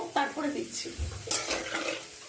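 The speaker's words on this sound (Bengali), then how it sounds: "এই যে ভালো করে মশলাটা একটু ভাজা ভাজা হোক" An onion-and-garlic spice paste fries in a pan for chicken jhol while it is stirred, scraping and sizzling close by under a woman's speech.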